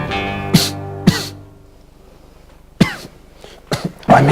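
A person coughs several times in sharp bursts, two close together near the start, then a quick cluster of coughs after a pause, alone with no talk, in a commercial for a cough medicine.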